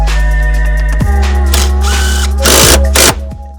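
Power tool tightening a seat bolt while installing WRX front bucket seats in a Subaru Forester SH, a loud close whirring drive that stutters and stops, followed by clicks and short bursts of ratcheting.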